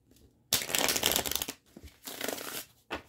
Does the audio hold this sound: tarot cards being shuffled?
yes